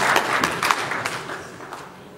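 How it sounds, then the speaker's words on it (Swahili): Audience applause at a university construction contract-signing ceremony, a moderate wash of clapping that stays steady and gradually fades over a couple of seconds. "Kwa hiyo naomba mnipigie makofi."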